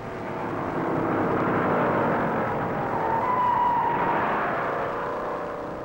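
A pack of 1960 NASCAR Grand National stock cars, among them Ford, Oldsmobile, Buick and Pontiac entries, roars past on the track at the green flag, the engine drone swelling and fading as they pass.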